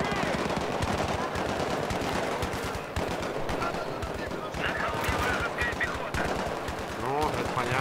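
Sustained machine gun fire in the game Battlefield 3, rapid close bursts rattling almost continuously with steady rhythm, loud throughout, while a player talks over it.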